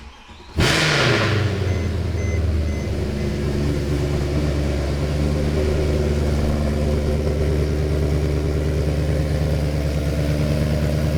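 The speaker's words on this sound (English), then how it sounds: "Okay, you can hear the ignition." A Mercedes C63 Black Series sedan engine cranks and fires up abruptly, then settles into a loud, steady, deep idle rumble close by with no talk.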